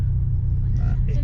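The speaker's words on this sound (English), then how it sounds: "Is that garbage truck any good?" A garbage truck's engine rumbles steadily at low pitch, a continuous near drone with no talk over it.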